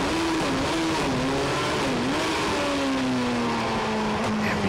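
Honda S2000-powered Road Sports Class A race cars howl past on the Kirkistown circuit, engines revving loud and continuous with shifting pitch as they accelerate along the track.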